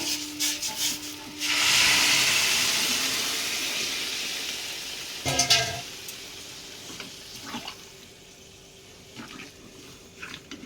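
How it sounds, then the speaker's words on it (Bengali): Hot water hits a sizzling pan of chickpeas with a sudden loud hiss that slowly fades, followed by a brief clatter and quieter bubbling and steaming. "জলটা গরম হয়ে গেছে, আমি এবার ঢেলে দিই।"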